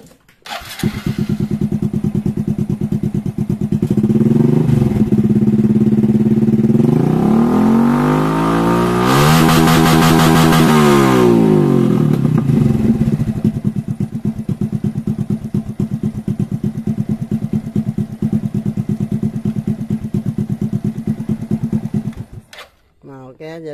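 Motorcycle engine with a stock Keihin ECU held at high revs, bouncing steadily against the rev limiter for about twenty seconds, loud and close, with a rising then falling sweep in the middle before cutting off.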